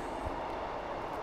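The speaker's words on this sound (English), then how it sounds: "Choo-choo train!" A train passes close by an abandoned mill in Newbridge, South Wales, giving a loud, steady rumbling roar with no clear breaks over a short stretch.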